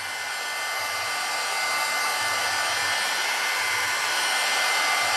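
A heat tool blowing on the back of a curling card gives a steady, loud, hair-dryer-like roar that holds constant from start to finish, close by and with nobody speaking.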